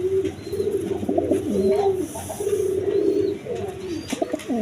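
Feather-footed pigeons at a pigeon seller's keep up a low, rolling cooing, several overlapping throaty calls close by with faint chirps and background noise.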